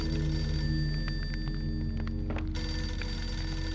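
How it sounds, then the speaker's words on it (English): Telephone ringing in the video game Max Payne, a steady electronic bell trill over a constant low game hum, moderately loud and alone without talk. "Is that phone?"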